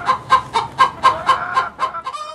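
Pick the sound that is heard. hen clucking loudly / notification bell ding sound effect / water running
hen clucking loudly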